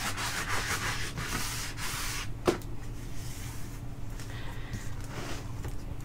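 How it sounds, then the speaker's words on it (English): Hand sanding rounds off the corners of a resin art journal tile, with repeated scratchy rubbing strokes, close and steady, one sharp tap midway, over a low background hum. "Right now I am just sanding, rounding off the corners a little bit more"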